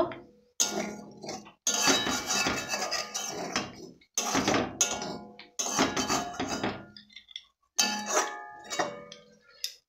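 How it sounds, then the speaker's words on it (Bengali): Spice masala stirred in a pan with a splash of water, for a drumstick dish, comes through as loud, close clattering scrapes and metallic clinks of a spoon in bursts separated by short silences, with no talk. "এইভাবে ভালো করে নেড়ে চেড়ে নেব"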